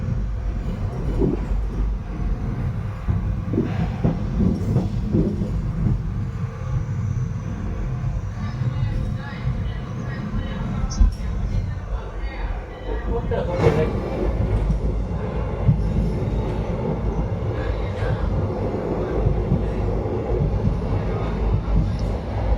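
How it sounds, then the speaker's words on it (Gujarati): A train rumbles along at speed, a steady heavy roar with rattling and clatter throughout, recorded from inside a carriage. "આપણી ટ્રેન ફૂલ સ્પીડમાં હાલવા માંડી છે"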